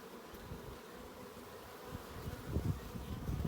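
Honey bees hum and buzz in a steady, dense drone around an open hive in a bee yard while a frame is pulled out, close and fairly soft, with no talking.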